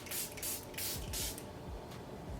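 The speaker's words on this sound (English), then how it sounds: "I'm just gonna go in with my favorite setting spray." Charlotte Tilbury Airbrush Flawless setting spray misted from its pump bottle, four quick close hissing bursts in a row, then a fainter fifth, with no talking.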